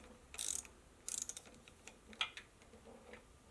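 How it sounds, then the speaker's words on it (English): A ratchet loosening the rear tank bolt on a Honda Monkey motorcycle, a few short quiet bursts of clicking close up in an otherwise hushed space. "So next you just take off the back tank bolt."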